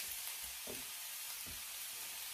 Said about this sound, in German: So brate ich jetzt das Gemüse eine Weile an.